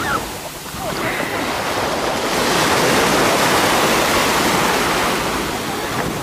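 Sea waves washing onto the shore at Alanya, Turkey, a steady, loud broadband rush of surf that swells gradually and continues without pause, with some wind noise over the microphone.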